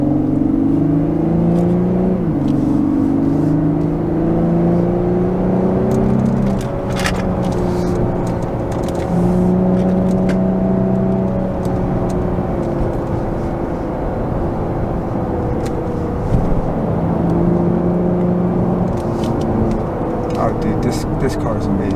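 A 2022 Lexus IS350 F Sport AWD accelerating through corners, heard from inside the cabin as a steady engine drone rising and falling in pitch through several gear changes, while someone talks over it.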